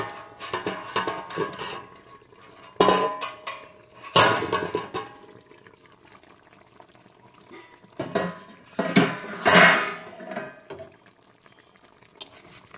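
A pot lid clanks as it is lifted off a pot of fish curry cooked in milk, with several metallic knocks and scrapes of cookware among quieter kitchen clatter and a soft simmer.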